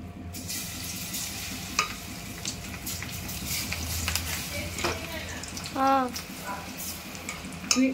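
Pakodi frying in oil over a medium flame makes a soft, continuous bubbling crackle at low volume, with light utensil taps and a brief voice.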